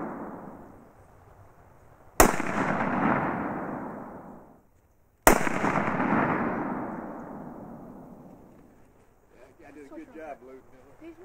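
Two loud, sharp .270 rifle shots fired at a range with handloaded cheese can rounds, each one a sudden crack followed by a long rolling echo, a few seconds apart, with faint voices afterward.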